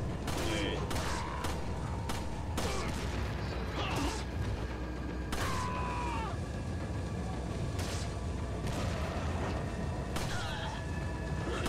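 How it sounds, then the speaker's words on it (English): Explosions and gunfire-like bursts from bombs going off in the video game Resident Evil 4, repeated sharp booms in quick succession with game effects, while a player talks excitedly over them. "you just threw bombs over there"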